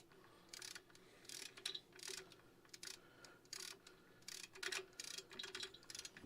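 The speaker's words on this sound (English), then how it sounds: "What are we skipping on here, boys? It's the ratchet." A hand ratchet clicks and skips unevenly while tightening bolts on a Farmmac F372 big bore chainsaw, giving quiet, close bursts of rapid metallic ticking separated by short pauses.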